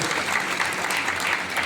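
A short burst of steady audience clapping at a business gathering, moderately loud and continuous throughout.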